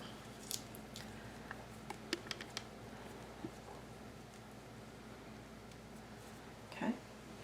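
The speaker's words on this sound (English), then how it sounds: "We're going to take the outside husks and as many of the silks off as what we can get." Fresh corn being husked by hand, the husks and silks pulled off in a kitchen, giving soft tearing, rustling and crunchy snaps scattered over a few seconds, close and fairly faint.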